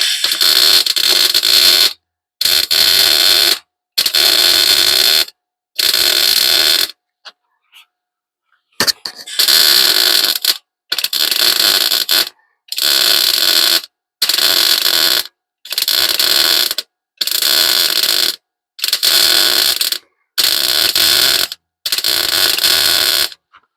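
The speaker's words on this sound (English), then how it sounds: "and the weld goes down, and the weld goes on." Car patch panel welded in a steady run of short stitch welds, about fourteen loud crackling bursts of roughly a second each, separated by brief silences, with one longer pause partway through.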